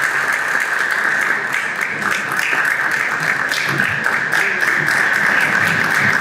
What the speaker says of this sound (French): Mettez-vous debout pour l'applaudir, s'il vous plaît.